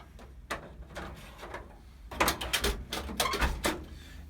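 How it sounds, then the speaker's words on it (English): A Snap-on heritage toolbox drawer, weighted with tools, is dropped back onto roller ball-bearing slides, giving a series of sharp metallic clacks and rolling rattles, sparse at first then clustered and louder in the second half. "just drop this toolbox drawer straight back in"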